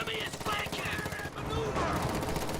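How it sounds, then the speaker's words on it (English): A flak half-track fires on riflemen in a video game. Rapid automatic gunfire rattles in bursts among other battle noise, with a commentator's voice faintly underneath. "Flak half-track firing on these riflemen,"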